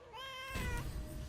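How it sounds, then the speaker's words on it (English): A pet cat meows loudly and close by: one drawn-out, rising tonal cry that breaks into a harsher, noisier call partway through, with no talk over it. "Sorry if you can hear my cat in the background."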